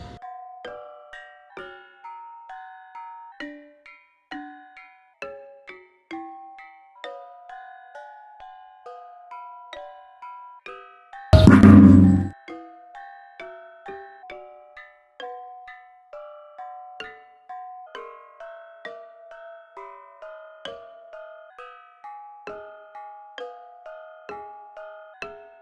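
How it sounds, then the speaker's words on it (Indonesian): A gong struck once in a Javanese dance-drama performance to open a royal contest, a loud broad crash lasting about a second that rings out over a steady, tinkling gamelan melody playing throughout. "Prabu Brawijaya memukul gong tanda sayembara akan dimulai."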